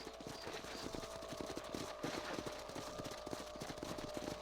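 Horse hooves clip-clop in a quick, steady rhythm while riding in the video game Red Dead Redemption, faint and continuous beneath a dense layer of game ambience.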